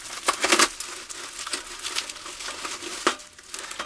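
Scissors cutting into an orange bubble wrap package, with crinkly plastic rustles and a few sharper snips and crunches, close by and intermittent.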